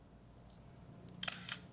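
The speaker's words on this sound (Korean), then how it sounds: "카메라 소리는 굉장히 우렁차네" Shutter of a Samsung Galaxy Zoom 2 camera phone firing twice in quick succession, crisp mechanical-sounding clicks close up, preceded by a faint short chirp, with no talk.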